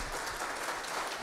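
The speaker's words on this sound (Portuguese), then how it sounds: "Vamos aplaudir." Brief burst of congregational clapping at a church service, a dense, fairly faint patter of many hands with no voices over it.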